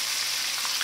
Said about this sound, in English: We're gonna let this fry for a minute on a medium heat.